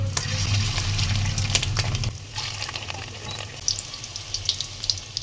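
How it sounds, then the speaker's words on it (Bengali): Fish roe fritters frying in hot oil give a steady close sizzle with crackling pops, the bubbling easing slightly after a couple of seconds and then running on without any talk. "তারপর আমি বড়াটা দিয়ে দেবো"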